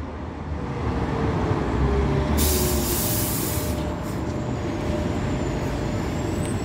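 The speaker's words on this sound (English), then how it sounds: "Here comes our tram, 104." Tram 104 draws into the Fitzalan Square stop in Sheffield with a loud, steady rumble of wheels and motor, a high squeal rising briefly midway.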